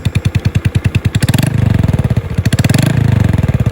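A 2021 Honda Wave 110 motorcycle engine with a 53 mm bore kit and aftermarket exhaust idles with a steady pulsing throb, then revs up in quick bursts, loud and close, with no other sounds.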